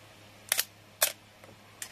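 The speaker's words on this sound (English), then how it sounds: "And that was with a long shutter." Film camera with aperture-priority metering firing its shutter on a long exposure: a close, quiet mechanical click-and-whir, a second clatter about half a second later, then faint winding ticks.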